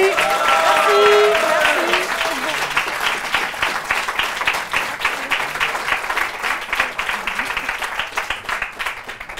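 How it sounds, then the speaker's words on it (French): The audience of a French televised talent contest breaks into loud, sustained applause for the evening's winner, the clapping thinning slightly toward the end while whistles and cheers ring out early on. "Je vous demande d'applaudir la gagnante de ce soir,"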